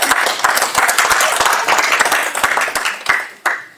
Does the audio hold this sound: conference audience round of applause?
yes